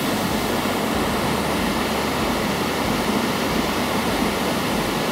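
National Creek Falls roaring close by, a dense, steady wash of falling water that fills the whole scene without pause, with no voices.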